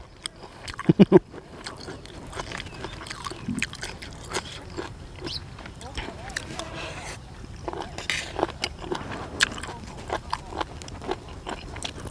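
Close, wet crunching and chewing of boiled apple snails with repeated bites and scraping, steady mouth noises throughout, with faint voices now and then.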